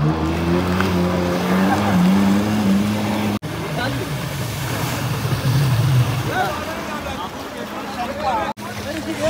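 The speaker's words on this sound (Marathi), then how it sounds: "ती आमची बोट असणार पॅराग्लायडिंगसाठी ती आम्हाला पुढे सोडणार आहे" A motorboat engine drones steadily with water noise beneath a person speaking at Tarkarli beach, Malvan, the motor's hum continuing throughout.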